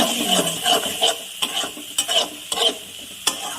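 Mustard paste being stirred into a fish and potato curry over the heat, a spoon scraping the pan in quick repeated strokes above a soft sizzle, close and clear.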